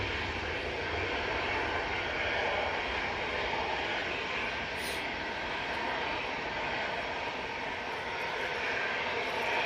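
An EasyJet airliner bound for Reykjavik passes overhead, its engines producing a broad, continuous roar that stays loud and steady throughout, with a brief high chirp partway through.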